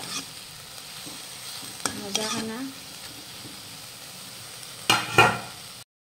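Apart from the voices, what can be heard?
potatoes frying and sizzling in a pan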